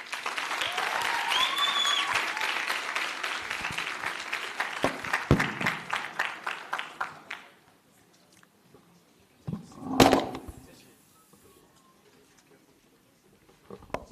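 Summit audience applause fills the first seven seconds with dense, steady clapping and a few louder claps, then dies away into near silence broken by a brief burst of noise.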